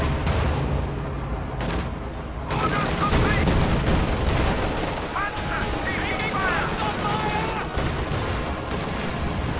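Dense gunfire and explosions from tanks and infantry in a World War II strategy game, an IS-2 tank under coordinated fire from Panzerschreck teams and a Panther, rumbling steadily throughout with a commentator talking over it.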